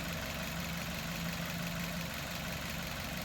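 A 2018 Maruti Dzire ZXI Plus petrol engine runs with a steady, close mechanical hum, a faint low tone rising briefly as it is lightly revved, with no speech.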